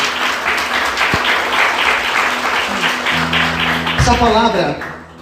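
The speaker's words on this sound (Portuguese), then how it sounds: "Vamos aplaudir Jesus bem forte." Loud, sustained applause from a church congregation fills the space for several seconds, with a voice speaking over the clapping near the end as it begins to fade.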